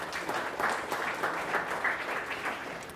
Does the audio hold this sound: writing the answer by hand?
no